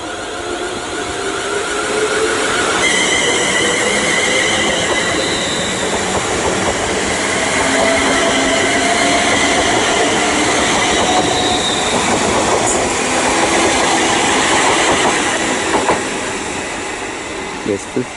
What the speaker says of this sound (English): departing now is the 1159 London North Western Railway service to London Euston